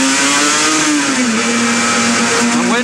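A 1977–78 racing sidecar at Brands Hatch, driven by George O'Dell, screams at high revs close up, its engine note sagging briefly and then climbing again under hard throttle for the whole stretch.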